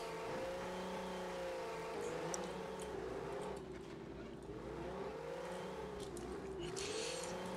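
Engine of a Suzuki Samurai truck driving in the video game Mudrunner, a steady droning hum that rises and falls slightly as it pushes along, continuous and unbroken, no speech.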